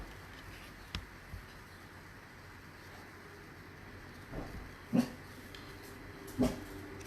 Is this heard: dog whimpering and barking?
yes